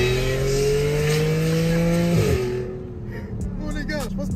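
A lightly modified Audi S5 engine revs hard with loud, rising harmonic tones, then drops off sharply and settles into a rough idle with smaller blips, close to the microphone.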